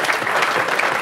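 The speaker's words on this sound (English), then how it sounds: "Let's give him a massive, massive round of applause, please." Audience applause at a property sales training event: a short, steady burst of dense clapping from a crowd in a hall.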